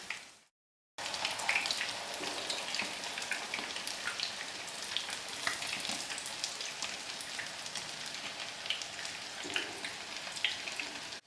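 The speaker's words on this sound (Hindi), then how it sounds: "तीन से 4 मिनट के लिए इसको आराम से दोनों साइडों से अच्छे से फ्राई कर लें।" Egg-dipped, crumb-coated mixed vegetable cutlets shallow fry in oil with a dense, continuous crackling sizzle of fine pops, close and even after a brief silent gap at the start.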